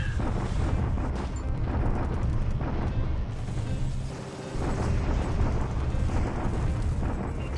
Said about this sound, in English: And I bombard at Loyang.